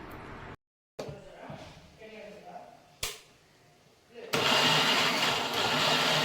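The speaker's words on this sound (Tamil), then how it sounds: "இப்போ வந்து மிக்சி ஜார்ல சேர்த்து இதை வந்து நல்லா அரைச்சி எடுத்துக்கலாம்." A kitchen mixer grinder blending cooled masala in its jar, starting after a few clicks and a short silence, then roaring loud and steady for the last two seconds.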